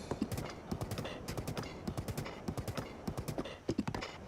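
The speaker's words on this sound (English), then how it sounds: "We'll see how far we can take this horse." Horse hooves galloping in the video game Zelda Breath of the Wild, a quick rhythmic run of clip-clop hoofbeats close up and fairly quiet, steady throughout with a brief louder cluster near the end.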